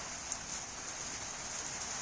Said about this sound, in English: this rain, heavy rain